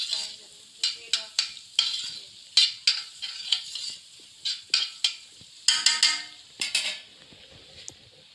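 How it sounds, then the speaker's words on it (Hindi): Garlic frying in oil in a pan while being stirred for an aloo mattar biryani, steady sizzle broken by repeated scraping strokes of a spoon against the pan, close and clear. "ये देखें लहसुन हमारा पकना शुरू हो गया है।"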